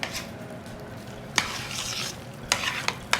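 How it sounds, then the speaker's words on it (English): A spoon stirs egg into a salmon loaf mixture in a bowl, making a wet, mushy churning with several sharp scraping knocks against the sides, close and fairly loud with no talking. "grab the spoon and give it all a good stir"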